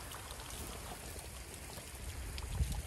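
Water from a garden watering of cabbage plants patters and trickles softly and continuously, a faint, even splashing wash that swells slightly near the end.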